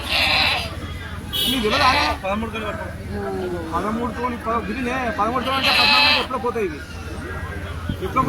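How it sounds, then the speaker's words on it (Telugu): Sheep and goats bleat in bursts at a village livestock market at Chilpur Gutta, loud and close, with people talking over and between the calls. "గొర్రె పొట్టేలు అనమాట."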